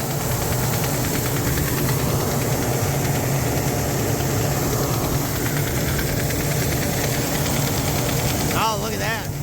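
A dump truck engine runs steadily through the whole stretch while hauling corn, a loud, constant idling drone with hiss, with voices talking over it.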